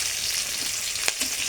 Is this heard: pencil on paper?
no